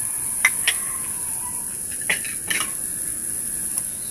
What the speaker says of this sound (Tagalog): Sumisit-sirit, mainit kasi yung kuali natin.